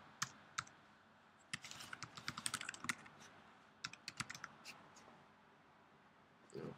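Typing on a computer keyboard during a software setup, quiet close clicks in uneven bursts and single taps with short pauses between.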